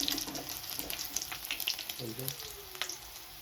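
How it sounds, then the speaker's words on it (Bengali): Pieces of fish sizzle and crackle steadily in hot oil in a home kitchen, with a few brief clinks as they are lifted out, the frying loud and close throughout. "মাছ আমার ভাজা হয়ে গেছে দেখুন"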